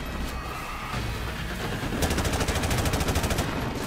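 Call of Duty 4: Modern Warfare Remastered gameplay set in a US invasion of Saudi Arabia, with loud scattered gunshots giving way to a rapid, sustained burst of automatic machine-gun fire over a busy battle din.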